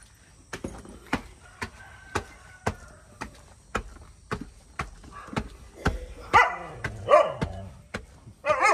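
A dog barks in a long, evenly spaced run of short, sharp yaps at moderate distance, and voices of children and adults join in during the last few seconds.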